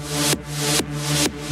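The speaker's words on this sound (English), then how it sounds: "An omnisphere sequence." Omnisphere synthesizer sequence playing alone, sustained tonal pads with steady harmonic layers swelling and cutting off in three repeated phrases, loud and close.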